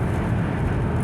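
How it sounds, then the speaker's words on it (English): Steady low road rumble and wind noise from inside a car moving down a highway, with no voices. "Sorry for the noise. You know, I'm driving down the highway."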